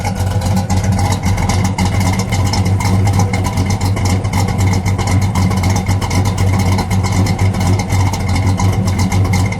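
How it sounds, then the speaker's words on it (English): A 1970 AMC Rebel The Machine's 390 V8 engine idles steadily and loudly up close, a lumpy, throbbing rumble with no voices. "Let me just let it idle for a second."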